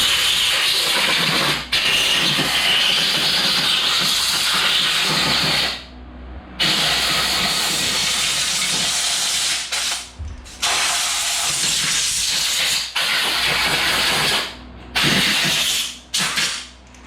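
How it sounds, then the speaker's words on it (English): Compressed air gun blasting dirt from the cooling fins of a Kawasaki FS481V engine on an Exmark Metro 36 mower, loud continuous hissing bursts that cut off briefly between blasts, with no talking. "You can also take an air gun and just kind of blow out the fin."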